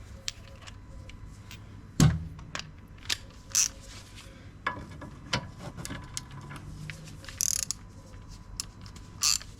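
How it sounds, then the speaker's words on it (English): Range Rover Evoque electric parking brake switching into maintenance mode during a brake pad job, giving a series of mechanical clicks and a whirring, ratcheting motor run with sharp clunks spaced across the stretch, close and alone. "Parking brake in maintenance mode."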